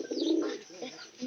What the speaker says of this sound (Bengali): নতুন পায়রা যে নিয়েছে কো কো এই যে নালটা ডাকতেছে, পায়রা যে ডাকতেছে রে